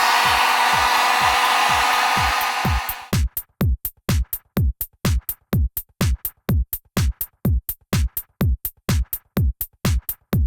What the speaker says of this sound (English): now you're gonna run the heat gun. Don't hold it in one spot.